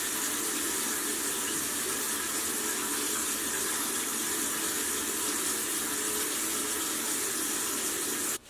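Tap water runs steadily into a sink at a bathroom faucet while a face is wetted, a continuous broadband gush with no talking.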